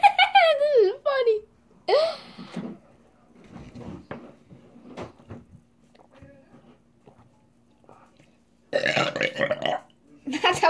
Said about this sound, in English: That's how his burp sound.